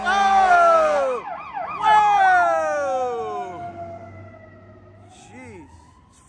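A loud police car siren sweeps and wails up close, with warbling tones that fade and trail off, and a voice exclaims over it briefly.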